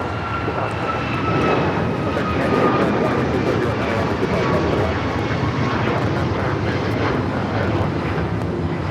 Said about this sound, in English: That is United Airlines 2443 taking off to Cleveland on the MAX 9.